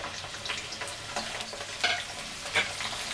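Amla pickle and garlic are stirred in hot oil, a steady close sizzle with scraping spoon strokes and occasional sharper clicks, and no talking.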